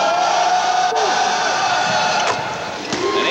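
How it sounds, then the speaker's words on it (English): Crowd noise fills Rose Hill Gym during a 1990 Seton Hall vs Fordham college basketball game, a busy murmur with a few sharp thuds, while a commentator speaks over it. "Crowd still filing in here at the Rose Hill Gym"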